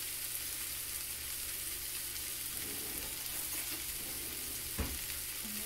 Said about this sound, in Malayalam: എന്നിട്ട് ഇതിനെ ഇളക്കി കൊടുക്കാം.